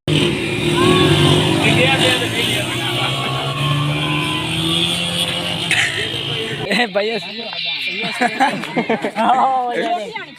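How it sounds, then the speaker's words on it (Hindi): Motorcycles ridden fast and revved near a museum entrance, their engines droning loudly under constant talk and crowd chatter, then a sharper stretch of revving with a voice laughing over it. "ये बाइकें भगा रहे हैं"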